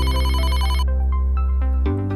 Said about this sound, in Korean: 늦은 오후 한 통의 전화가 걸려왔다.